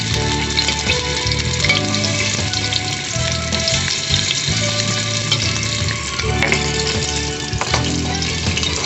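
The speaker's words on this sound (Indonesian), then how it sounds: "Kita panaskan minyak. Kemudian tumis bumbu yang telah dihaluskan." Ground spice paste sautéing in hot oil in a wok during an Indonesian cooking demonstration, a steady dense sizzle and crackle with occasional stirring scrapes, close and continuous with no talking.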